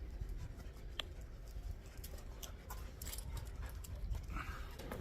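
Thirsty, tired dogs pant steadily and close by after a journey to Le Puy-en-Velay, a rapid breathy rhythm that runs through the whole stretch with no one talking.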